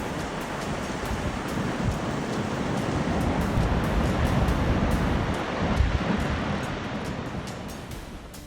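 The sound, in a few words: large sea waves crashing on Italy's coastline in strong wind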